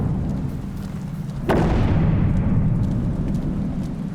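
A single booming explosion goes off in the video game Nobody Wants to Die, a sharp blast followed by a long rumbling tail over a steady low background drone.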